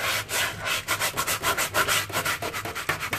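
A sponge scrubs back and forth across a greasy metal vent hood screen, a close, rhythmic rasping rub with quick repeated strokes and no talk.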